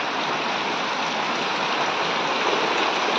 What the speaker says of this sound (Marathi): सकाळ झाली की पाऊस सुरुवात करतो.